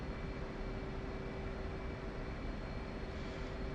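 A jet aircraft engine in a flight simulator game holds a steady roar with a constant whine while taxiing at around 70 percent RPM, even and continuous with no talk.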